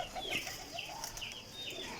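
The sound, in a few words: pigeon flapping wings in hand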